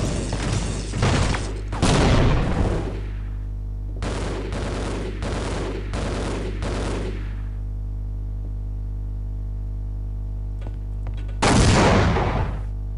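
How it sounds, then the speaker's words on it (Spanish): Gunfire from the video game Half-Life: Opposing Force comes in loud, rapid bursts, dense volleys separated by short pauses, then a quiet lull before a final burst. "Ya se han acabado los tiros."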